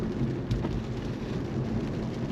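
Steady rain falls all around, a dense hiss of drops with low rumbling underneath, continuous and without talking.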